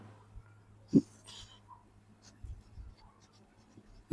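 A pen moves across paper in soft, faint strokes, writing out a cricket team's two-innings run totals in an ICT class, with a couple of sharper taps and low background hum.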